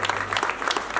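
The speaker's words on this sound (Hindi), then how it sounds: "बीच में जोरदार तालियां मैडम के लिए।" Audience applause for a teacher at an indoor school event, steady dense clapping from a crowd filling the short stretch with no talk over it.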